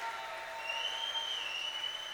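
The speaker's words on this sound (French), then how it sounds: "Est-ce qu'on peut les accueillir dans les acclamations?" Applause and cheering welcome guests at a church event, a steady broadband wash of clapping from a crowd, with a faint sustained tone running through it.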